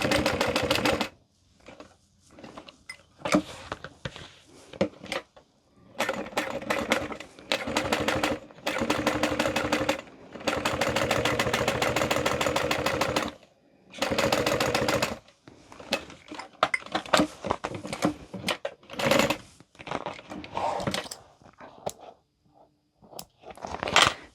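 Sewing machine stitching a Mr. Heckles handbag, close and loud in several bursts of rapid needle chatter separated by short pauses, with shorter stop-start stitching near the end.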